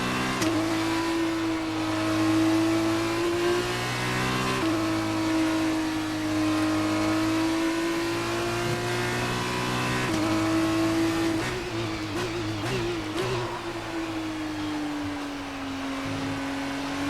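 In the F1 2019 video game, an F2 race car engine drones steadily at high revs through a tunnel, the whine shifting in pitch with gear changes and reverberating loudly for the whole stretch.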